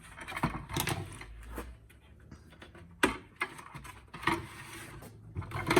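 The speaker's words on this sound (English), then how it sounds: "I'm going to take the clamps off." Clamps being unfastened and removed from a homemade chicken killing cone, several close metallic clicks, ratcheting and clunks in irregular bursts with handling noise between, no talking.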